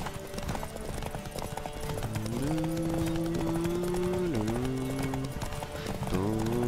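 Rhythmic hoofbeats of a galloping horse in The Witcher video game over a steady droning tone that shifts pitch, with a busy game soundscape behind.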